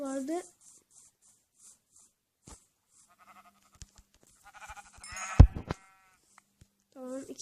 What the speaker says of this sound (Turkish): Burada koyunlar var.